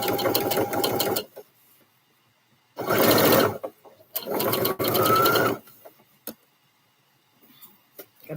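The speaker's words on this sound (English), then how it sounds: "Gotta make sure that seam allowance is facing the right way the whole way." Three bursts of fast, close sewing machine stitching along a seam of a male scrub top, separated by quiet pauses with faint clicks.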